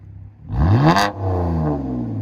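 Straight-piped 2011 BMW 328i with its 3.0L inline six blips the throttle once, rising to a raspy peak and falling back to a deep, steady rumble, loud and close.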